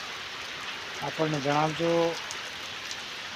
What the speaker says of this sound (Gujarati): અમારે તો છોટાઉદેપુરમાં વરસાદ તો ભૂકા કાઢી નાખેલા છે